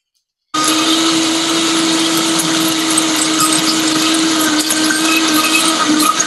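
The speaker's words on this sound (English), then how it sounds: "Put them in the blender." A Vitamix blender runs at a steady, loud whir the whole way through, starting abruptly after a brief silence at a cooking demo held at a vegan food festival.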